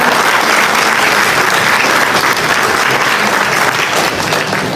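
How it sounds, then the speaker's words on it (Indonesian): A crowd at an event with Anies Baswedan applauds steadily, a loud, dense wash of clapping hands that holds evenly for several seconds. "Sekali lagi kita berikan aplaus untuk Pak Andreas Baswedan"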